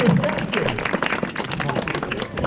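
Audience applause at a sea lion show at a flamingo park, a steady wash of clapping that runs the whole time with voices mixed in.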